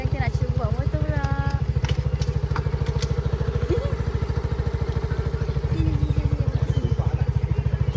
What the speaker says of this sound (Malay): Okay, sekarang kita nak cuba bawa motor pula.